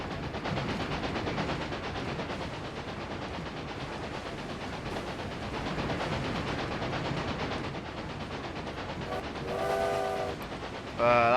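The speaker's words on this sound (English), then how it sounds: "That train's going away." Train in the video game Railway Empire, a steady rumbling roll of the cars with clickety-clack passing by, holding level before a brief horn-like tone near the end.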